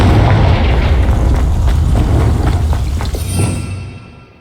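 A fire spell called Confringo explodes in the fantasy action game Hogwarts Legacy, giving a loud, sustained booming blast with crackling that rolls on for several seconds and fades near the end, with no voices over it.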